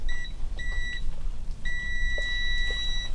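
A continuity tester touched to connected metal water pipes gives three electronic beeps, two short ones and then a long steady tone, loud and close, with no talk.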